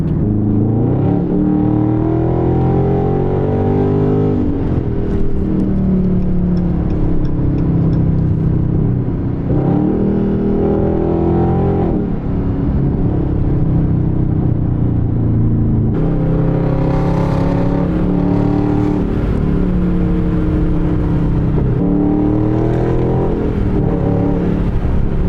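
Car with a muffler delete pulling hard, its loud raspy exhaust rising through repeated rev climbs and gear changes, with a continuous rumbling roar close to the microphone throughout.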